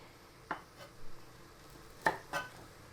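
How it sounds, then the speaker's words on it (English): A knife chops vegetables for a vegan lentil and potato pasty filling, giving four sharp, close knocks: a pair of light cuts early, then two firmer ones near the end, with quiet gaps between. "And watch your hands the whole time you're chopping"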